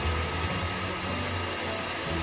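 Electric mixer whisking sponge cake batter with oil and vanilla added, a loud constant motor whir without a break for the whole stretch, close and with no talk.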